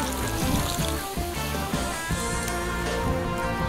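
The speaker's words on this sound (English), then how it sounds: "And I'm just gonna add some water here." Water poured into a charcoal smoker while a beef brisket cooks, a steady trickling splash that runs continuously for a few seconds, fairly close and loud, with no talking.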